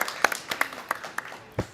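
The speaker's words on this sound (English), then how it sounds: "Can we there. get a bit of an applause for Samir's new portfolio?" Small audience at a live creative event clapping for a new portfolio, sparse and uneven handclaps, fairly faint, with scattered individual claps rather than a full ovation.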